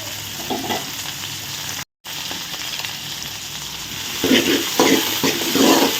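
Onions and green chillies sautéing in a pan for a sardine curry, with a continuous sizzle and spoon scrapes stirring on all sides. A brief dropout breaks it, and the stirring grows louder toward the end.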